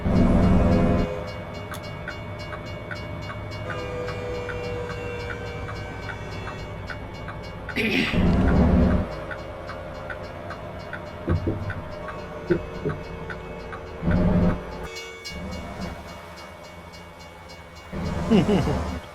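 A train passes in American Truck Simulator with a steady rumble of rolling wagons and repeated clicks, broken by several louder bursts. Someone talks at times over it.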